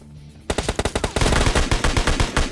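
Rapid gunfire from a battle royale video game, ending in a headshot. Dense, loud shots follow a brief quiet start, first in quick separate cracks and then in sustained fast bursts, with no talk.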